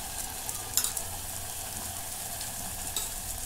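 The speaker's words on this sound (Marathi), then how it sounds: "आता हे पण परतून घेते." Ginger garlic paste sautéing with browned onions for chicken biryani makes a steady close sizzle, with a couple of brief spoon clinks and scrapes as it is stirred.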